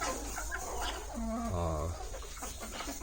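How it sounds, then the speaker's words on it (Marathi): A village hen gives a few short clucks and a drawn-out call, close by, over a steady background hum. "या कोंबड्या आम्ही गणेश कोलिवाड सरांकडून घेतलेल्या"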